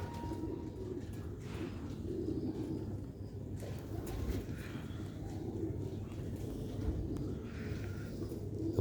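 Young pigeons of the Sialkot Ali Wale breed coo softly amid steady low rumbling background noise, while someone talks in the foreground throughout.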